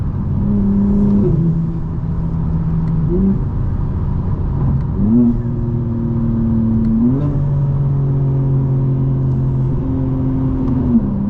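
A 2024 BMW M4 Competition G82 engine droning inside a tunnel, a loud steady note that dips and climbs through several gear changes, with the enclosed space filling out the sound.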